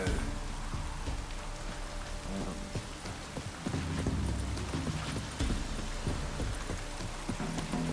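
Steady rain pours in The Witcher 3, a dense, continuous patter on surfaces with occasional low rumbles and horse hoof clops mixed in, fairly quiet and without speech.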